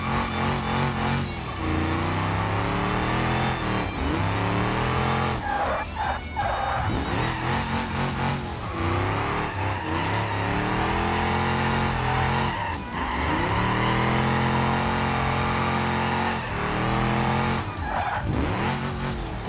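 Car engine in the BeamNG driving game on a drift circuit, repeated revving climbs and drops in pitch mixed with long tire squeals and skids, loud and close, with no talking.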